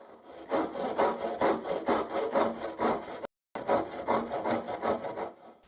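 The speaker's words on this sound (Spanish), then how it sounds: "cortando con la sierra inclinada hasta casi llegar a la línea horizontal" A hand saw cuts at an angle through a wooden board for finger joints, a loud close rhythmic rasp of steady back-and-forth strokes with one brief pause midway.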